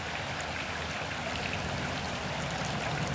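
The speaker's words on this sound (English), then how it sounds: "So we're using distilled water to rinse the probe off" Distilled water splashes steadily as it rinses a water-quality probe beside Davis Creek, a continuous close wash of pouring and trickling with no pauses and no talk.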